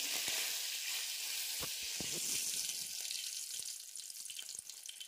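Cumin seeds and curry leaves sizzle in hot oil, a bright hiss that starts strong, with a few knocks and spoon taps partway through, then eases slightly toward the end, with no speech.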